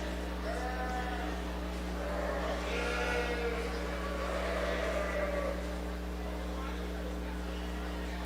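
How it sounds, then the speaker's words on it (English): Several sheep bleat in overlapping calls over a steady low hum at a livestock show ring in Stettler, Alberta, with people talking faintly underneath. "That's a whole lot of sheep."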